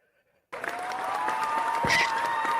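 Clapping breaks out suddenly in a courtroom during a criminal hearing, a sustained, fairly loud patter of many hands that holds steady to the end, with a faint tone running underneath.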